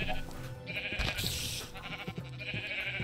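Sheep bleating in the Minecraft game, a shorn sheep that lost its wool in an explosion, heard as a few wavering game bleats over a steady background of in-game sound.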